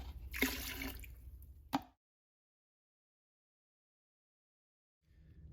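Water splashing as a paintbrush is rinsed, a close sloshing burst with a sharp slap near the end, then silence before faint splashing resumes.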